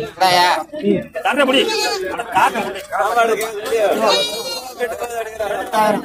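Goats bleat repeatedly at a busy Samayapuram goat market in Trichy, the calls rising through steady nearby talk and crowd chatter.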